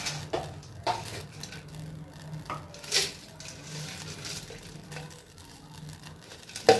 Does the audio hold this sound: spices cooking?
yes